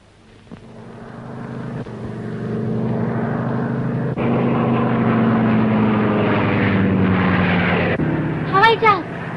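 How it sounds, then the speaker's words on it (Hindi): Propeller airplane drones steadily overhead while circling, its engine hum building and holding loud for several seconds, with a brief chirping bird-like sound near the end. "अरे हवाई जहाज चक्कर क्यों काट रहा है?"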